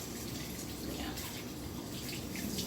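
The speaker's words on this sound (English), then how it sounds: "I'm gonna cut half, and then I'm gonna rinse it off" Running tap water rinsing half a tomato in a kitchen sink, a steady broadband splash lasting the whole moment at moderate level with no talk over it.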